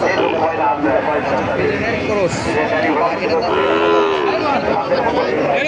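A Friesian cross bull calf lows at a busy cattle market, its moos rising over constant crowd chatter and bargaining voices close by.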